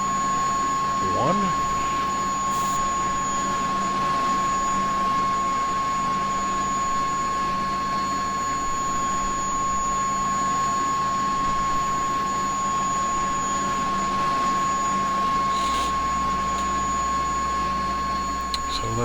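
Simulated CH-47 Chinook helicopter engine idling after start-up in X-Plane 11, a steady whining turbine hum with a constant high tone, with a voice speaking over it.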